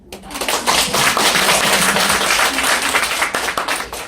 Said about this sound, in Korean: 박수 한번 다시.